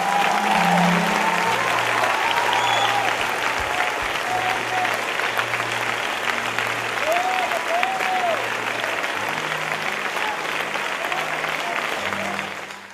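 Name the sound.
applause for Jesus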